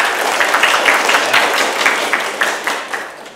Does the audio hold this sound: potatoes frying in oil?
no